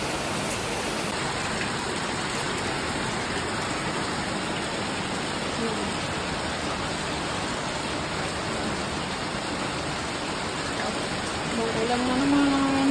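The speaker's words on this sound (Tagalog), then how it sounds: "ang lakas na naman ng ulan." Heavy rain pours steadily during a storm over a rural vegetable garden, a dense, even hiss of falling water that holds at one level and swells slightly near the end, with no talking.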